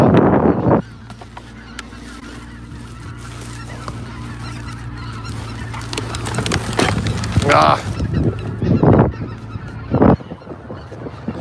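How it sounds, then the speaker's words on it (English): Geese honk loudly nearby as they try to settle after a long flight. Bursts of overlapping honks come at the start and again near the end, with a quieter outdoor stretch between them. "Look at the geese. The geese are trying to settle. They've been flying forever."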